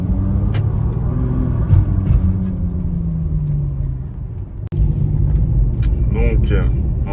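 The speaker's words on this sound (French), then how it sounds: "je vais quand même vous faire entendre un petit peu le son du V12" Naturally aspirated 690 hp V12 of a Ferrari GTC4 Lusso, a steady low rumble that holds near and loud for several seconds, dips briefly, then carries on with a lighter, rising tone.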